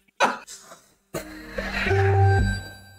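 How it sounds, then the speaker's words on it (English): A loud cough blasted straight into a microphone during a Pummel Party game session, a short sharp burst followed by a second harsher, distorted cough-like noise with a sustained buzzing tone. "You coughed into it."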